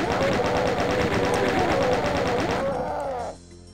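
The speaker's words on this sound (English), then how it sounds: "back on the chain gun" Chain gun in the video game Doom 2 firing a rapid, steady stream of loud shots for about three seconds before cutting off abruptly, leaving a fading ring.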